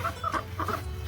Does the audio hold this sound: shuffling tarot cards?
no